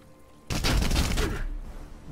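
Gunfire in Warhammer 40k: Chaos Gate - Daemonhunters, a sudden loud, close burst of shots lasting about a second, then fading into rumbling echo.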